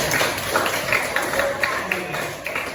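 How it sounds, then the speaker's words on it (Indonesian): Students clapping together in a classroom, a steady dense patter of many hands at moderate loudness, with a voice audible underneath. "Oke, kasih tepuk tangan dulu dong buat teman-teman"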